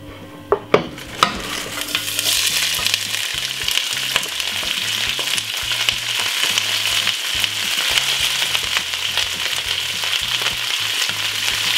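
Cabbage and other stir-fry ingredients drop into hot oil with a few sharp thuds, then sizzle loudly and steadily while they are stirred for a Jamaican BBQ cabbage, with no voices.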